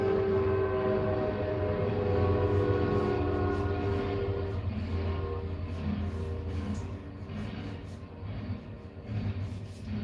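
A train passes nearby with a sustained low rumble of rolling cars and a steady tonal drone resembling a horn, loud throughout and easing off slightly near the end, with no voices.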